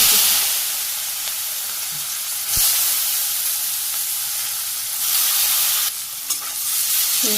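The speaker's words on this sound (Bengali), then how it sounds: "আলু ভাজি করতে থাকি" Potatoes fry and get stirred in a pan in a Bangladeshi village kitchen, a steady close sizzling hiss with occasional scrape and clink from stirring, no talk.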